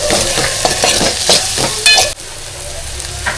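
A spoon stirs Malvani masala, coriander-cumin powder and red chili powder in a pan, giving a run of short scraping strokes over a soft sizzle, close and clear, then a quieter sizzle.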